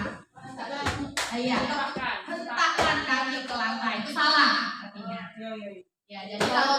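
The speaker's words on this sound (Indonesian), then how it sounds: "silakan Bapak Ibu tepuk tangan 2 kali" An audience at a school workshop in Bengkulu Tengah claps hands in short double bursts, sharp and close, between stretches of loud talking and chatter.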